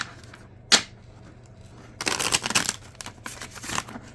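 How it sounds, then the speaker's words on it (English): Tarot cards shuffled by hand during a reading: one short riffle burst, then a longer crisp flurry of card slaps and flutters, close and fairly loud with no voices. "Last shuffle."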